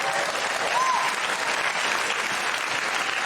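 Studio audience applause on Bill Maher's talk show, a dense, steady wash of clapping from a large crowd, loud and continuous for the whole stretch with no voices over it.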